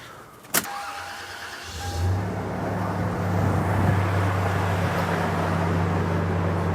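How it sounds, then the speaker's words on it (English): A car engine starting during fuel rail pulse testing: a sharp click, then a brief cranking that catches into a loud, steady idle hum continuing to the end, with no talking. "Now let's go ahead and start up the vehicle again."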